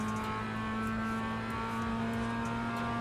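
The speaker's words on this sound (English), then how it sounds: "Putting the pedal to the metal and full throttle through this turn here." Race car engine held at full throttle through a turn at Summit Point in the iRacing sim, a steady loud droning whine with strong constant harmonics and no break for the whole stretch.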